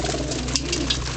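Pigeons coo softly nearby, a brief burst of low, throaty calls over a faint background hum.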